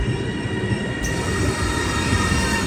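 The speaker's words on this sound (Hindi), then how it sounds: "इंतज़ार ख़त्म हुआ और हमारी ट्रेन आ गई है" An Italian local train rolling into a platform at Bologna station, a loud continuous rumble of wheels on rail with a high metallic squeal running throughout.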